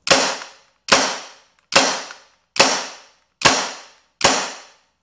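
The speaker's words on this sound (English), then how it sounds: "That's a very long trigger pull." A Tippmann 68 Special paintball gun fires six evenly spaced sharp pops, each a loud crack with a quick decaying tail, close and alone with no talk.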